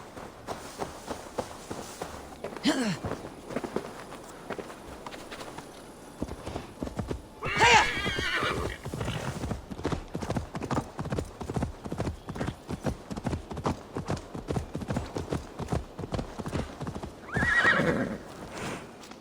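Rhythmic hoofbeats clop steadily for the whole stretch, broken by two loud horse whinnies, one early and one near the end, in the video game Assassin's Creed Valhalla.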